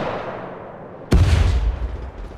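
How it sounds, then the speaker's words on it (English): A single sharp gunshot from Apex Legends Mobile cracks out suddenly, a loud close blast with a rumbling tail after a quiet lead-in. "Yeah, getting shot at."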